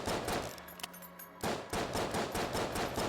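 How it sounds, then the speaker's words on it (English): Pistol fire from the video game Enter the Gungeon with an infinite-ammo pistol: a rapid series of loud, punchy shots in quick rhythm, briefly pausing before resuming, alone without talk. "it's pretty easy considering we have the infinite ammo pistol"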